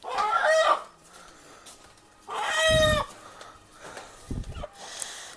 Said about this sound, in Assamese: এই চাও মুৰ্গী